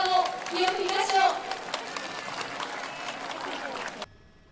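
Spectators lining an Olympic torch relay route clap for a passing runner, a scattered outdoor patter carried under a commentator's talk. The applause holds steady before cutting off near the end.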